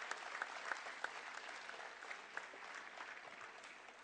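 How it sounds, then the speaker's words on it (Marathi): An audience claps together at an open-ground public event, a steady, dense wash of applause that stays faint and distant and carries no talking. "आपण सगळ्यांनी अगदी खणखणीत आवाज जोरदार टाळ्या वाजवून त्यांचंही जोरदार स्वागत"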